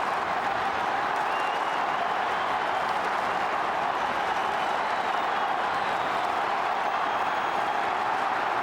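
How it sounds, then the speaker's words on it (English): A packed AFL stadium crowd roars after a goal during the 2004 Preliminary Final between Port Adelaide and St Kilda: a loud, dense and sustained wall of cheering and applause that holds steady throughout. "A thunderous roar around Amy Stadium"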